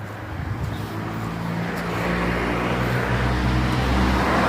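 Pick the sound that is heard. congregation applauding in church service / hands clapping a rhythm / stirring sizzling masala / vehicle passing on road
vehicle passing on road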